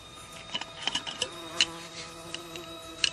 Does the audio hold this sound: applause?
no